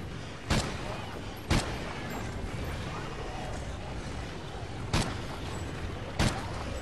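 Gunshots in a tactical shooter game, four sharp loud reports spaced irregularly over a steady background rumble of the game's ambience.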